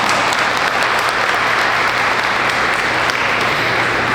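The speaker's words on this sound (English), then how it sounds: "Yeah, we can clap that." Loud, dense clapping from a large audience at a public health talk, a continuous close wash of hands with no voices over it.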